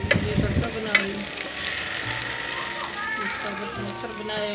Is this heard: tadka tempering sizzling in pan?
yes